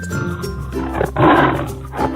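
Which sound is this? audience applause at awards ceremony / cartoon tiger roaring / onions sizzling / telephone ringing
cartoon tiger roaring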